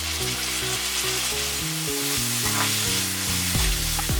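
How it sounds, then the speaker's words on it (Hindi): Tomatoes sizzle steadily in hot oil as they fry for a dhaba-style egg curry, a continuous close crackle under tonal background music. "अभी हम इसमें टमाटो डालेंगे 1 कप।"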